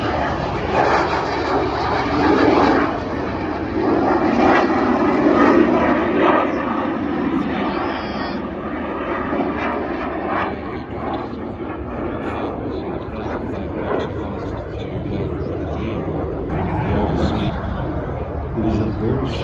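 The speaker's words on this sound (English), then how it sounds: "It is a very small aircraft." A small counter-insurgency aircraft flies at the 2019 RAAF airshow in Edinburgh, producing a continuous, fairly loud engine drone that swells and fades slightly. A commentator talks over a public address system throughout.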